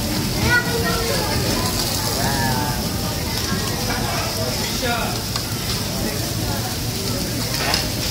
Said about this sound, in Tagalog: Busy kakabaliktad ng hotdog.